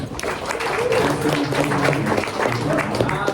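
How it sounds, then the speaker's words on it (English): Audience applause for a guest speaker at a holiday party, steady clapping from a room of people with chatter and voices layered through it. "So give a round of applause to Nick Frosst from Cohere."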